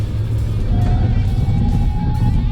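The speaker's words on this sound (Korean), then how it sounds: "자, 급브레이크 한번 잡아볼게요" A Kia Niro Hybrid brakes hard on a downhill road, heard from inside as a loud, steady low rumble of road and drivetrain with a faint thin whine.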